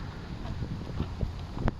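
Strong cool wind sweeps through Suan Rot Fai, a park, buffeting the microphone with a steady, rushing roar that swells in brief gusts, with no talking.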